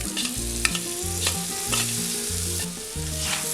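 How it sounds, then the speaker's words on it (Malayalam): Boiled soya chunks roast in hot oil with curry leaves and spices, giving a loud, continuous sizzle with occasional stirring scrapes. Music plays underneath. "ഇനി ഇത് ഈ എണ്ണയിൽ കിടന്നിട്ട് നന്നായിട്ടൊന്ന് റോസ്റ്റായിട്ട് വരണം"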